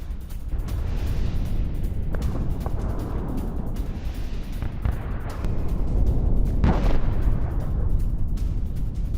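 Heavy, continuous rumbling blasts from an Israeli military strike on a Hamas base, with a sharp, louder boom near the end, like distant explosions rolling over a dense, noisy background.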